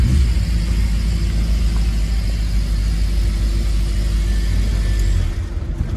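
A Tofaş car's engine rumbles steadily through its exhaust, a loud low drone held almost level before dropping away at the very end.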